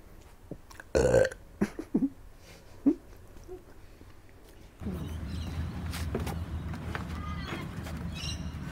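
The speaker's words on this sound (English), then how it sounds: "Whoops. I'm going to burp." A man lets out a loud, close burp, followed by a few smaller gulping sounds, before steady room noise and faint shuffling take over.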